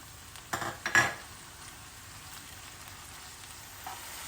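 Chopped tomatoes go into a pot of softened peppers for a minced-meat zucchini dish, giving a quick pair of clattering drops early on over a faint, steady sizzle that continues afterward.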